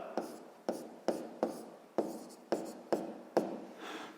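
A pen writes out a math solution on paper in eight crisp, evenly spaced strokes, each a sharp scratch that fades quickly, close and clear with no talk.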